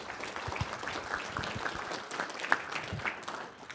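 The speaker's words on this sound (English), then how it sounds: "Let's give them a round of applause." Round of applause for a swine health seminar panel, a roomful of people clapping at moderate volume, scattered individual claps standing out over a steady patter.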